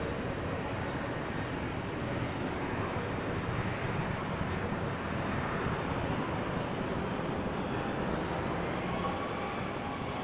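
A Boeing 767 freighter at Toronto Pearson airport, heard as a steady, broad jet roar that holds at an even level throughout, moderately distant.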